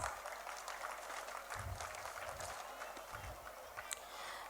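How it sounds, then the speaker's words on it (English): Applause from an audience at a school annual function's evening program fills the whole stretch as a steady, fairly quiet wash of hand claps, with some low thumps underneath. "give a big round of applause."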